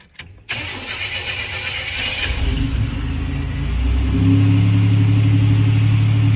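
A Buick Grand National with a new exhaust cranks with a brief starter whirr, then catches and settles into a loud, deep, steady rumble close by, building in volume as it idles.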